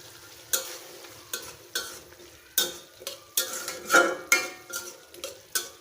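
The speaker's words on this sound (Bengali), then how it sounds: "কষিয়ে নেব কিছুক্ষণ" Potato pieces, green chilies and spice paste stir-fried in a pan for smoked fish curry, with repeated spatula scrapes and stirs over a soft sizzle in quick irregular bursts, no voices.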